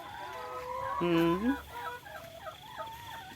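Chickens cluck and call in a coop, with one loud squawking cluck standing out above a string of quieter, rhythmic clucks, close and clear with no talk.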